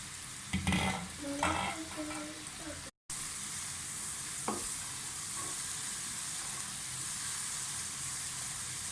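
Spice masala cooks in a pan with a constant hissing sizzle, with a few stirring scrapes and a brief murmur early on before the frying hiss carries on alone.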